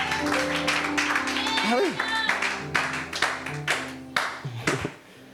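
A church congregation claps in praise of the Lord, a steady run of hand claps mixed with voices, and someone speaks briefly over it.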